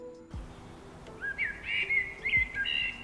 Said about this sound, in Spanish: entre las ramas, se percibe el canto de las aves